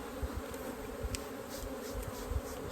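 A low, continuous swarm hum rises from honeybees settling on a hive after being shaken from a box, faint and even with small swells, and no one speaks.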